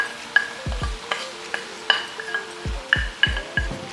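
Italian sausage and turkey bacon sizzling with cooking vegetables in a pan while a utensil breaks up the meat, giving repeated sharp scraping knocks over a soft, steady fry close by, with no talking.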